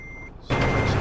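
In a Euro Truck Simulator 2 driving game, a truck's reversing beeper sounds a steady high tone, then a loud, broad engine and air rush swells in abruptly and holds close and constant.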